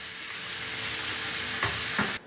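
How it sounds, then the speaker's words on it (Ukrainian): Mushrooms sizzle and crackle steadily in a hot pan, close and continuous, with a couple of soft stirring knocks near the end. "Смажимо грибочки"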